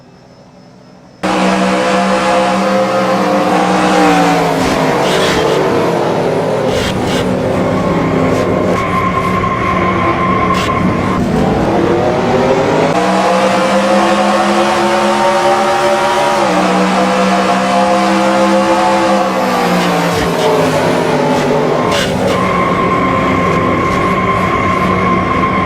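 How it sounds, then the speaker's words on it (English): Race cars in a racing video game lap at Pocono: a loud, continuous droning engine roar with rising and falling pitch and overlapping tones as the cars pass, running without pause and without talk. "We already have a wreck on lap 1."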